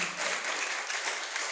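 Soft applause from guests at a diamond wedding anniversary celebration, a brief, even patter of clapping heard at a modest distance.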